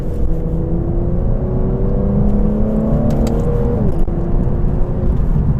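A 2012 Infiniti G37xS coupe engine revs up hard in sport mode, rising in pitch as it accelerates, then briefly drops at a gear change before pulling again, loud and close.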